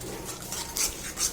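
Boiled potato and egg being mixed in a pan, giving soft, faint scraping and light metallic clinks of a spoon against the pan, with a couple of brighter scrapes.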